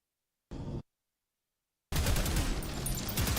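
Dual machine guns in a video game fire a loud, brief burst, fall silent for over a second, then open up in sustained rapid automatic fire that keeps going.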